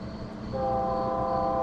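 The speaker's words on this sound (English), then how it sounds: "damn train" A passing train sounds its horn, a loud sustained multi-tone blast cutting in partway through over a low rumbling rail background, with no talk.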